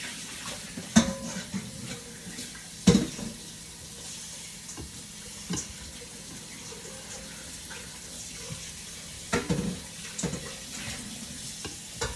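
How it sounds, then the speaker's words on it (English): Water runs from a kitchen tap while a bowl is washed during chocolate sheet cake baking, a steady near splash with sharp clinks of the bowl against the sink. "I'm going to wash this bowl really quick because we're going to use it again."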